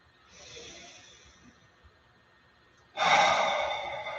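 Deep meditation breathing, close and quiet: a soft, drawn-out inhale, a still pause, then a much louder, breathy exhale that trails off slowly.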